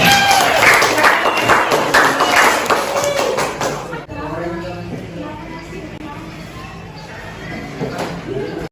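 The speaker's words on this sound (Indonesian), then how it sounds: "Tepuk tangan dulu" A classroom audience claps for a presenting student group at a teaching performance exam, steady applause for several seconds that fades, followed by spoken talk.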